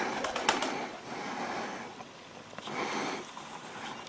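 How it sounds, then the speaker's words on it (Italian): Pigeon cooing, likely in Venice, soft repeated coos fairly faint over an outdoor background of ambient hiss, with no talk. "Quello è un piccione."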